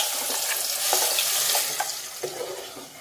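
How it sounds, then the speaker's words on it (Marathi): Ground spice paste being stirred and fried in hot oil in a pot for a prawn curry, with a loud bright sizzle and intermittent scraping stirs close by. "आता आपण तेलामध्ये हे परतून घेऊ। हे बघा, तेल गरम झालेलं आहे।"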